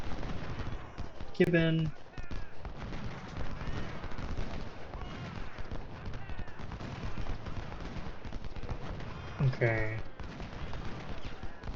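Musket and cannon fire crackles continuously through a Civil War battle in the Ultimate General strategy game, a dense distant volley texture with brief spoken remarks near the start and end.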